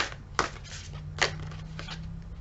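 Tarot cards riffle and slap softly in a few quick bursts as they are shuffled, close by and with no talking.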